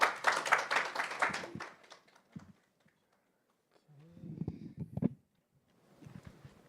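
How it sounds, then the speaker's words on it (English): An audience at a finance conference session claps for about two seconds, and the applause fades quickly. A voice then speaks into a microphone in the quieter hall. "Please give him a big round of applause."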